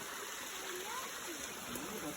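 A cold mountain stream rushes at a waterfall, a steady broadband wash of water that stays moderate in level, with faint speech-like sounds in the background.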